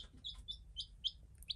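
A mother duck and a duckling make faint, distant high chirps and peeps, about five short calls spaced unevenly over a low background rumble, with no voices.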